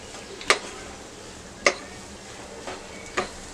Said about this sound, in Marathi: कोथिंबीर घालूया। एकदा मीडियम गॅसवर परतून घेऊया हे सगळं।